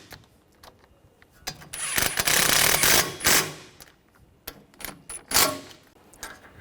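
Ratchet tightening wheel hub bolts on a Ford Escape during a front wheel bearing and hub replacement, heard as several quick bursts of clicking with short pauses between them, close and fairly loud.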